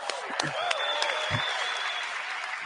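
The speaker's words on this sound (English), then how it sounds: "Give her a round of applause." A crowd applauds at a big product launch event, giving a sustained wash of clapping with a few scattered whoops and voices rising over it at moderate loudness.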